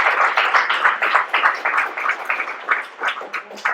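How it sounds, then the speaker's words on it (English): A small meetup audience claps steadily for a few seconds, the sound moderately loud and fairly close, with the individual hand claps blurring into continuous applause. "Let's give a round of applause for that."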